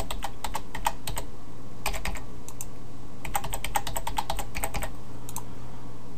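Fingers type a password on a computer keyboard in quick bursts of close, crisp key clicks with short pauses, over a steady low hum, with no talking.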